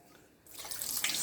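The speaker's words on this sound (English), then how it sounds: "wash the lemongrass as well before you steep it" Water from a kitchen tap starts running halfway through as fresh lemongrass stalks are rinsed under it, a soft steady splashing stream after near silence.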